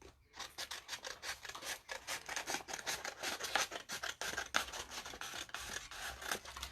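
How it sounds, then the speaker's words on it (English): Scissors snip a piece off a Dollar Tree stocking material in rapid repeated cuts, close and crisp, with no talking. "I'm just going to cut a piece of it off."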